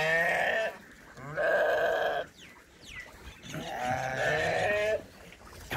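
Goats on a farm bleat in three long, wavering calls separated by short pauses. They are close and loud, with faint background noise between the calls.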